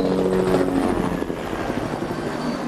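A helicopter flies in a movie scene, its rotor and engine making a loud, steady, continuous drone with a rhythmic beating throughout, close and dominant with no voices over it.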